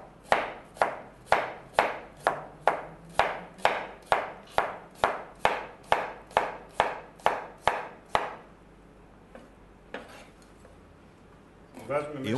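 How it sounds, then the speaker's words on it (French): A knife slices an onion thinly on a cutting board, about twenty quick even strokes, then a pause with a few scattered knocks and handling sounds. "On prend un oignon, on le coupe en tranches fines."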